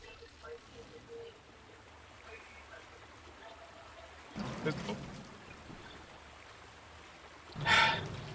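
Water splashes in the video game Bioshock 2 in two sudden bursts, the second louder and brief, over a quiet ambient background.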